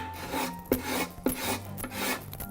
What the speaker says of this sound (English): next I'll be using a paint scraper to remove the paint and Vaseline, and I'm just scraping